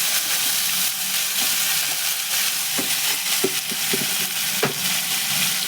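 Steady loud sizzling and hissing from mixed vegetables (potato, green papaya, raw banana, drumstick, carrot, eggplant) frying in a pan, with occasional scraping taps of a spatula stirring through them.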